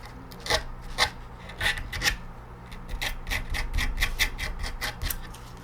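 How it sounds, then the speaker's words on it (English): Excess skateboard grip tape rubbed against the board's edges to smooth them, a series of short, gritty rasping strokes in an uneven rhythm that grow quicker toward the end, close and fairly loud. "Then you can use this excess grip again to smooth out the edges."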